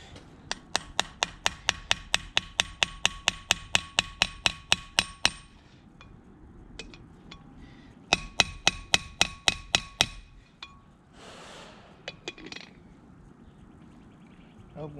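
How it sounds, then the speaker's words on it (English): A fast run of sharp metallic strikes from a small hammer on front shock and wheel bearing parts of a 1999 Dodge Ram, then a pause and a second shorter burst of taps, with scraping and faint talk in between. "Get my little hammer."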